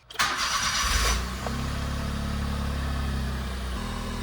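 A Honda Vamos engine with a newly installed fuel pump primes, cranks briefly, catches, and settles into a steady, close idle hum.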